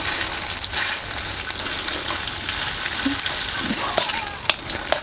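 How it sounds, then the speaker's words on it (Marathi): Green chilli thecha sautés in hot oil in a pan, a dense, loud and steady close-up sizzle with occasional stirring scrapes and no talking. "तेलामध्ये ना थोडंसं आपल्याला हे खरडा परतून घ्यायचं"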